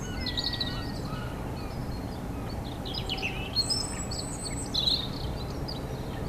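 Garden ambience recorded from a window ledge, with scattered bird chirps and short song phrases over a steady outdoor hiss and low rumble.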